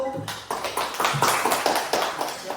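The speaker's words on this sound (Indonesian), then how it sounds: "kita kasih tepuk tangan untuk kelompok 1" A small group claps in an Indonesian school classroom, a quick run of separate hand claps close by at moderate volume, with no talking over it.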